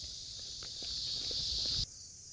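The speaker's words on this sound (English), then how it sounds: "He had crickets too." Crickets chirp in a continuous high trill on a voicemail recording, steady and fairly loud, with faint soft thumps underneath before the line audibly cuts to a quieter background.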